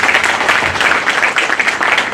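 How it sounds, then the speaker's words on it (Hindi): An audience welcoming a chairman claps in a dense, even burst of applause that holds steady for a couple of seconds. "ऐसी शख्सियत के लिए मैं आप सभी से प्रार्थना करूंगा, जोरदार तालियों से स्वागत करें।"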